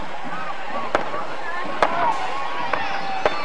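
Distant fireworks at a Christmas parade, four sharp booms spaced about a second apart, faint and far off beneath a steady crowd murmur and an announcer's voice.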